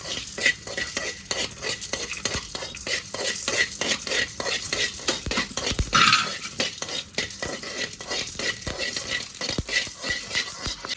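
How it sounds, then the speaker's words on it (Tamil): Whole spices dry roasted in an empty pan without oil, a utensil scraping and stirring in quick repeated strokes with light rattling of spices and a faint sizzle, close and fairly quiet. "எண்ணெய் ஊற்ற வேண்டாங்க, வெறுமனே அப்படியே வெறும் சட்டியில் வறுத்தாலும் போதும்"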